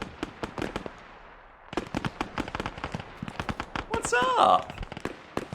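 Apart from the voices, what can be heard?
gunfire in the video game Arma 3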